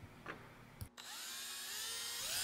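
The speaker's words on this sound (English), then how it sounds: "I drill that out, open it up to the right size" A power drill bores a hole in aluminum for an aircraft seat pan in a workshop: a brief motor blip, a pause, then a sustained rising whine as the bit bites into the metal, loud and alone.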